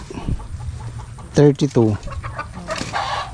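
Chickens cluck close by while poultry and ducks are weighed for sale, with short bursts of clucking mixed in with people talking and counting.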